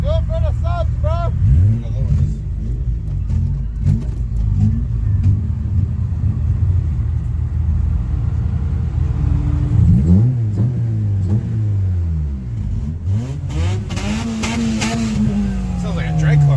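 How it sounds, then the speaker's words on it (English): Loud car engine at a garage car show, revving hard like a drag car with repeated rising and falling roars over a steady rumble, with people talking and shouting nearby. "Sounds like a drag car."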